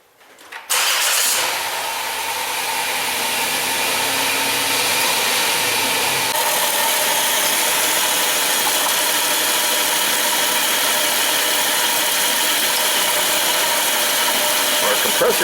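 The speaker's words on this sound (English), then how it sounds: "Our compressor's cycling." A car engine cranks and catches, then settles into a steady, loud idle with a broad whooshing blower as the A/C compressor cycles on during a rear A/C block-off check, with no talk.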